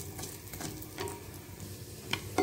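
Bajji chillies and tamarind roast in a pan with a soft, steady sizzle broken by light stirring scrapes and occasional clicks, quiet and close.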